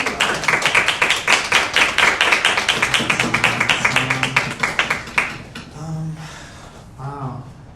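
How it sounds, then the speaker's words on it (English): Audience applause at a Native American language revitalization presentation, rapid steady clapping from a crowd that tapers off, followed by a speaker beginning to talk. "a warm round of applause for Revitalization"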